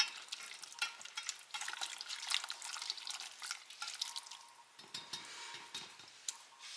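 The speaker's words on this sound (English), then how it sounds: "Just going to kind of whisk it around, get it all nice and coated in that sauce." Hot tortellini being whisked through sauce in a pot, a continuous wet stirring and sloshing with light clinks of the whisk, moderately close and without talk.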